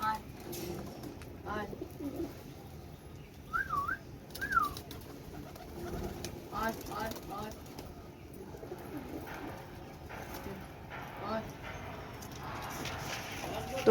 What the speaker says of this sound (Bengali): তো এই যে একটা লক্কা ফ্যান্সি কবুতর আসছে।